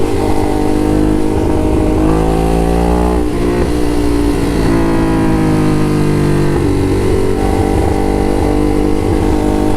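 A motorcycle rides along a road toward the beach, its engine loud and close with rising and falling revs over steady wind and road noise, no voices.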